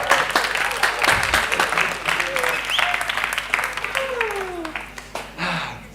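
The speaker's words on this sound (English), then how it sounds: "Let's give him a round of applause." An audience gives a round of applause after a storytelling session, with dense clapping and crowd noise filling the room, mixed with voices and some whistling tones.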